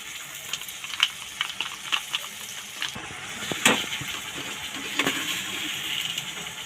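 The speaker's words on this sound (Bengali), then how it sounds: "এটা আদা বাটা আমি দিয়ে দিচ্ছি" Ginger paste goes into a pot of sizzling chicken khichuri with fried cauliflower, a steady close frying hiss broken by sharp spattering pops and a few scraping clinks.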